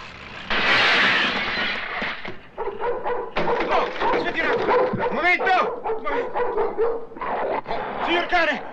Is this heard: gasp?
no